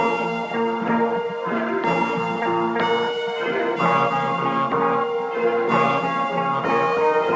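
A simple synth lead from the Contact preset Deft Lines Foreshadow, playing sparse sustained notes in a trap-style beat, steady and fairly loud with no voices.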